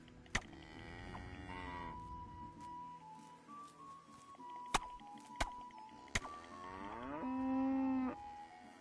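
A cow in Kingdom Come Deliverance lets out long, drawn mooing calls, one at the start and another louder one near the end, with sharp clicks and knocks between them and no talk.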